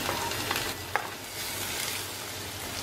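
Finely chopped garlic sautés in oil over a high flame, giving a steady, close hiss of frying with a few soft stirring scrapes, no voices.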